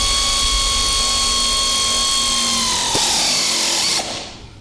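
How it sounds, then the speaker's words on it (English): A power tool runs steadily, tightening 17mm bolts and lock nuts on a golf cart's rear seat, holding a loud continuous whine before slowing and winding down near the end. "So I'm just going to go through and securely fasten everything and tighten it all up."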